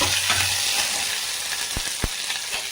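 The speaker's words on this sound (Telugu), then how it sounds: "ఎండుమిర్చి పచ్చిమిర్చి తెల్లగడ్డ అన్నీ వేసి బాగా నూనెలోనే అన్నీ ఫ్రై చేయాలి" Dried red chilies, green chilies and garlic frying in oil for a vegetable curry, a bright hissing sizzle throughout with two or three dull knocks near the end.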